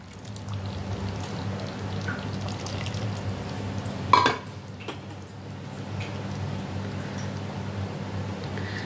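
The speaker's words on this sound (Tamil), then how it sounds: "கொஞ்சம் தண்ணி கலந்து ஊற்றிக்கலாம்." Water is poured into a simmering pot of lentil dumpling curry (paruppu urundai kulambu), giving a steady low bubbling and trickling wash with one brief sharp clink midway, close by, with no talk.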